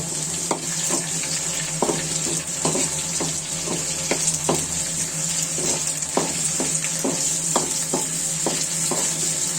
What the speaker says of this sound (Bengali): আমি নাড়াচাড়া করে পেঁয়াজগুলো ভেজে নিব